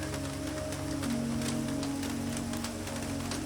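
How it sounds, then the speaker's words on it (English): Continuous rain patters evenly on a rooftop greenhouse, a soft, unbroken wash with faint scattered drops and a low steady hum beneath. "The rain has become a single sound now."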